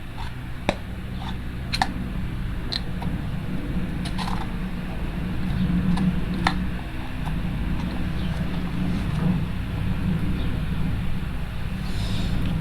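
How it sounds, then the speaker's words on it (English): An overhead electric fan blows on a hot day, making a steady whooshing drone throughout. Scattered faint creaks and small handling clicks sound on top of it. "Since it's hot, there is a fan above me blowing."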